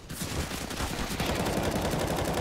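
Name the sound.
pistol gunfire exchange in Counter-Strike: Global Offensive video game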